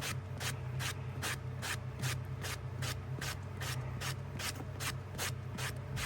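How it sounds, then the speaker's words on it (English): Rhythmic back-and-forth sanding strokes on a bone knife handle, about three per second, rasp steadily and close up over a low background hum. "Sanding down pretty good"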